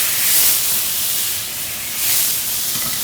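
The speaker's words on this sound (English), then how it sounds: "I'm going to deglaze the pan" White wine hits a hot pan to deglaze it for pork in Dijon sauce, giving a loud, continuous hiss and sizzle that swells and eases slightly while steaming.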